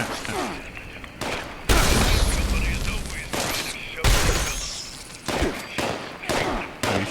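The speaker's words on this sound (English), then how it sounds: "Are you shooting at me?" Gunfire in Fallout 76, loud bursts of automatic shots coming in separate volleys with short pauses between them, close and harsh.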